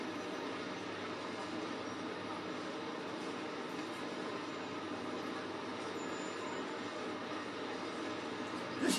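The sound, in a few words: train driving in Train Sim World 5 video game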